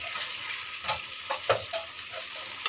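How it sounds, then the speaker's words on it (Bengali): Pangas fish sizzles in hot oil in a pan, a steady bright hiss broken by a few soft stirring scrapes and pops, close and fairly quiet. "মাছটা দিয়ে দিলাম। আজকে না হয় একটু ভেজে রান্না করি আমার মেয়েদের জন্য।"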